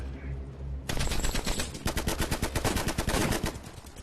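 Heavy gunfire erupts in a World War II battle scene on Iwo Jima: a sudden loud burst, then rapid rhythmic machine-gun fire rattling close for several seconds.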